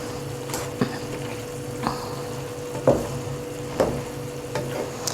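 Lamb liver, hearts and kidneys are stirred in a pan with dried coriander, lemon juice and white vinegar, giving a spatula scrape every second or so over a low, steady sizzle. No one speaks.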